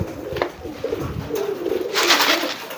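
Soft pigeon coos sound nearby against a low, rumbling background, with a brief brighter rustle partway through.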